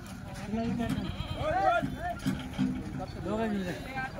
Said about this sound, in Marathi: वड्डे बकरा एकदम भारी आहे.